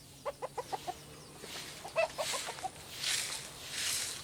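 Chickens cluck in quick, close bursts, a rhythmic run of short clucks followed by another cluster, with soft rustling noise after.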